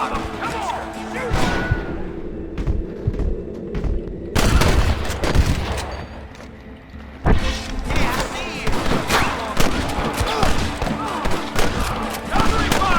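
Gunfire from a Red Dead Redemption shootout, loud rapid volleys and sharp bursts in clustered waves with brief lulls, mixed with shouting voices throughout.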